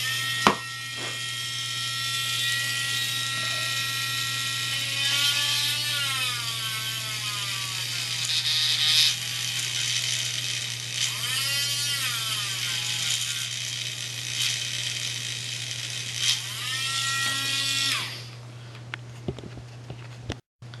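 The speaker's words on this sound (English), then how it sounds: "Alright, so now we've got our holes drilled" Harbor Freight power drill boring holes into an ebay projector headlight housing for a Ford F250/F350 Excursion, a near, whining motor with repeated pitch sweeps as the bit bites and slows, over a steady hum, ending abruptly.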